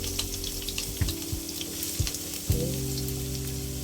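Lots of garlic sautéing in a pan for shrimp fried rice, a close crackling sizzle broken by a few stirring knocks and growing louder near the end, with one brief spoken word.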